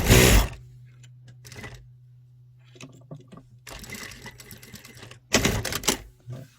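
Sewing machine topstitching a guideline on a slanted pants pocket: short bursts of rapid mechanical stitching with a steady low hum underneath and quiet pauses between runs, close and moderately loud.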